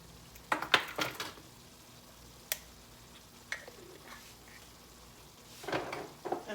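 A shepherd's pie mixture with freshly added green chives is stirred in a cooking pan, giving scattered faint clinks and scrapes of a utensil over a soft, low background of cooking.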